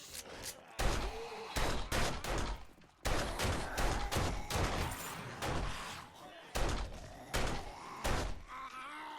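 Rapid gunshots fired in the zombie survival game 7 Days to Die (Darkness Falls mod), sharp loud bursts in uneven volleys with brief pauses between them.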